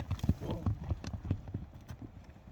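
Horse hooves clip-clop at a run during a Kyrgyz horse-riding trial, a quick uneven beat of thuds close by, with a voice talking over it and a brief whinny-like sound.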